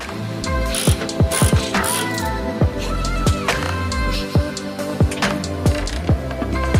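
A ratchet wrench clicks in repeated bursts of rapid pawl ticks while unbolting the crash bar from a crashed Toyota 86, close and loud with brief pauses between runs, no talking.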